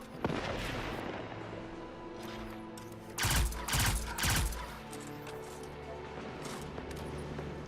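Pulse rifle firing in Destiny 2: three short, loud bursts in quick succession, each a tight cluster of rounds, over a steady low game ambience with occasional fainter shots.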